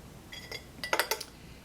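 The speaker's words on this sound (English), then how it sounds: "bring the this 3-piece glass brewing set" A three-piece glass tea brewing set clinks several times, with light glassy taps that quicken into a short cluster of bright chimes, close and alone in a quiet room.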